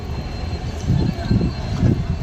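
A passenger train rumbles at a station on the Rameswaram–Palani line, steady low wheel and engine noise close by with rising and falling surges, no talk.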